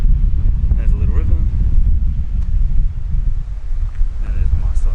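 Strong wind buffets the microphone with heavy low rumbling gusts at a park campsite near a small river around Broken Hill, and a voice is faintly audible beneath it.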